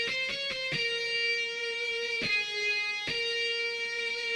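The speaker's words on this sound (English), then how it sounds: "The guitar is from Expand, and it's called the triple attack." Electric guitar preset Triple Attack from the Expand plugin in a new wave pluggnb beat, a few quick plucked attacks followed by sustained ringing tones, soft and steady with no voices.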